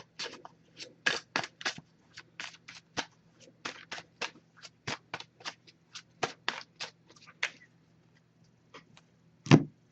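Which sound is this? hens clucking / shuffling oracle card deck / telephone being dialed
shuffling oracle card deck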